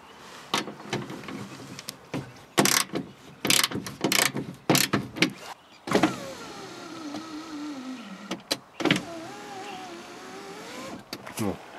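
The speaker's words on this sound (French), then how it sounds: "Ça va faciliter le mouvement de la vitre." A car power window pane moves up and down in its door rails with a mechanical whirring and grinding motor sound, the strain audible as the rails bind, interrupted by bursts of clicks and knocks and by someone speaking.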